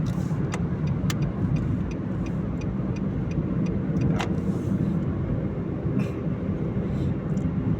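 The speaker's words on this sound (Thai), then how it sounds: "ถนนพระรามสองเนี่ยค่อนข้างที่รถจะเยอะนะครับ รถเยอะแล้วก็ ติดบ่อยนะครับ" Heavy traffic rolls along Rama 2 Road in Bangkok as a dense, continuous roadway rumble, with scattered faint clicks and knocks.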